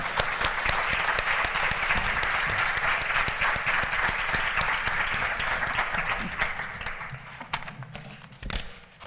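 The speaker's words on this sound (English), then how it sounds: "These ladies have all given wonderful opening statements, so let's applaud them." A room full of people applauds candidates at a school PTA forum, a broad, steady wash of clapping that holds for most of the stretch, then thins and fades near the end with a last few claps.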